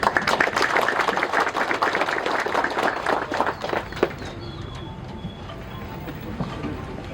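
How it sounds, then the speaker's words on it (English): An audience applauds to welcome the chief guest at a ceremony for the transfer of Assam Rifles battalion land to the Mizoram government: dense, steady clapping for several seconds that thins out and fades, leaving low room noise. "let us welcome our chief guest with a round loud of applause"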